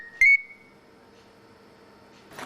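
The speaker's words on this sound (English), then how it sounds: "Your phone. Won't you receive it?" A single short electronic beep from a mobile phone rings out near and loud, followed by quiet room tone, with a faint rustle at the end.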